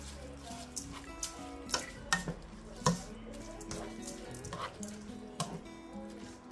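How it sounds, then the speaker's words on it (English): Rice-A-Roni with tomatoes being stirred in a pan on the stove, quiet scraping and clinking of the utensil against the pan with soft sizzling, a few sharper knocks scattered across several seconds. "I'm going to go ahead and stir that around real quick"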